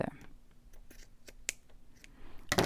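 Scissors trim lace with a series of quiet, crisp snips and clicks at irregular intervals, close by and faint.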